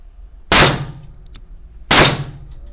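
Two loud, sharp gunshots about 1.4 seconds apart from a revolver firing .38 S&W cartridges, each a sudden blast with a short ringing decay, close by at a shooting range with no talk.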